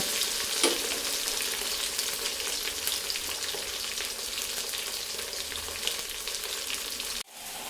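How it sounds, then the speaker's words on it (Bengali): Pieces of taro (kochu) frying in a pan for a Bengali rohu fish curry, a continuous crackling sizzle with light stirring that stops abruptly near the end. "কচুটা হালকা একটু লাল করে ভেজে তারপরে আমি এতে একে একে সব মশলা দিয়ে দেব।"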